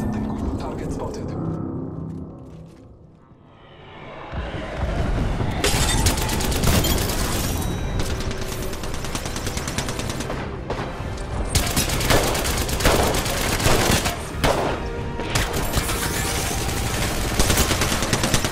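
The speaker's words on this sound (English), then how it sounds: "Signaling an airstrike" Airstrike in the video game Apex Legends: a dense, loud barrage of rapid blasts and gunfire-like cracks that rolls on almost continuously for many seconds, with a brief lull near the start.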